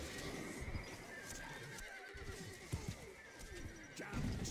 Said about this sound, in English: Look at your horses just dying.